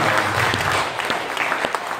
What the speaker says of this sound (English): Let's give another clap for our friend.